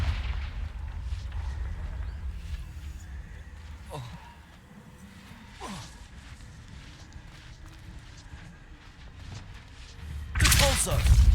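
A Confringo fire spell cast in Hogwarts Legacy goes off as a loud, sudden blast near the end, after stretches of rumbling game ambience and a few soft whooshing footfalls.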